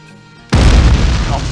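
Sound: explosion in a video game

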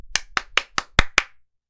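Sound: hand clapping

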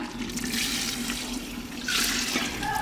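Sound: water being poured into cooking pot

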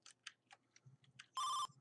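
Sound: bell ringing in a video game

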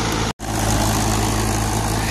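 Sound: Mahindra 575 tractor engine running a thresher

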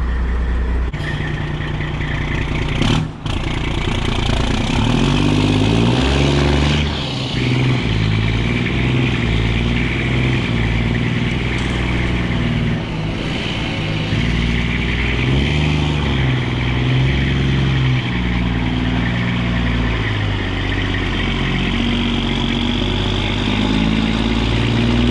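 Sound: restored Kenworth truck, straight-piped Detroit Series 60, driving off

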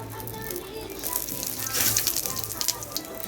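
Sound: whole cumin seeds sizzling in hot oil

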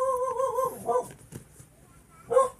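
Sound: dog whimpering and yipping

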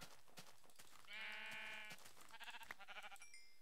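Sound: sheep bleating in Minecraft video game

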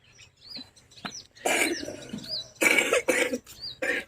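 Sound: cough

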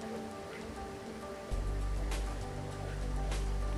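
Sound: sweet water being poured for golgappa pani

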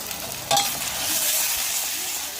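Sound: stir-frying tomatoes in hot oil

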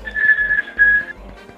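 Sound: whistling in a Paperino Operazione Papero video game

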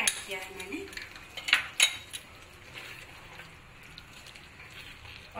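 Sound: stirring onion and capsicum curry ingredients in a pan

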